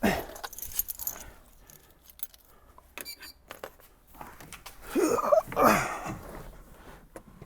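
Keys jingle and clink in short metallic bursts, with quieter rustling and handling sounds between them, fairly close.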